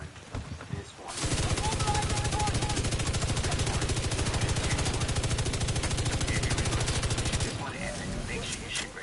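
Sustained rapid automatic gunfire in The Division 2 shooting out windows, a loud unbroken burst lasting several seconds before stopping, with faint voices talking beneath.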